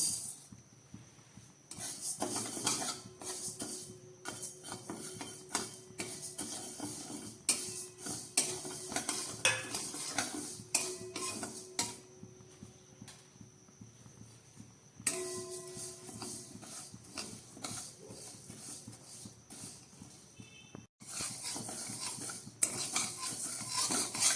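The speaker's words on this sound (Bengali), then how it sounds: "এবার এই কড়াইয়ের মধ্যে আমি ডালটা ভেজে দেবো" A metal spatula scrapes and stirs dry lentils being roasted in a wok, steady rasping strokes close up, with occasional clinks against the metal.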